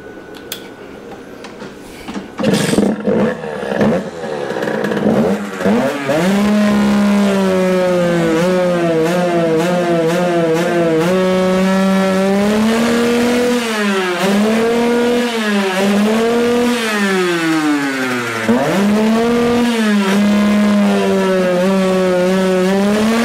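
Small two-stroke engine of a Rieju MRT motorcycle revving up and down close by, rising and falling in repeated sweeps as it chokes and struggles with the carburettor air filter, loud and steady with no talk.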